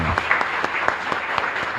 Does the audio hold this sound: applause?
yes